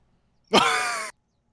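A single harsh crow caw, about half a second long, sounds close and clear against silence.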